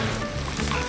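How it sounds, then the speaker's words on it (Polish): Wild boar meat for goulash fries in a pan with a steady, hissing sizzle, close and continuous, over a brief moment. "Skwierczy mi? Jeszcze nie. No powiedzmy, że już. Skwierczy."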